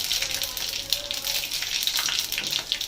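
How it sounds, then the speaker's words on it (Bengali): Panch phoron spices dropped into hot oil for a poppy-seed green banana dish, giving a steady close hiss of frying with brief crackles, fairly loud throughout. "এবারে তেলটা গরম হয়ে গেছে, এবারে দিয়ে দেবো পাঁচফোড়ন"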